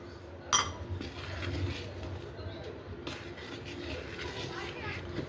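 Salted dosa batter being stirred in a bowl, with a sharp clink near the start and soft, steady scraping and sloshing that runs throughout over low room noise.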